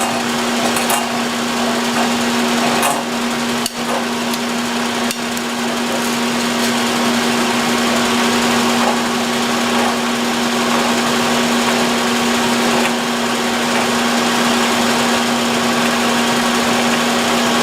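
A machine tool running at low speed while machining bronze castings, a steady droning hum with a constant tone and occasional faint knocks and clicks, close and continuous with no talk.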